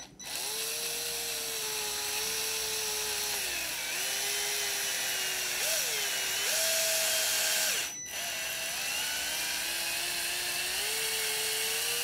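A Blue Monster PowerDeuce copper pipe cleaner brush spins inside a copper pipe with a steady, loud whining drill-like drone whose pitch shifts as the load changes, cutting out briefly near the end before resuming.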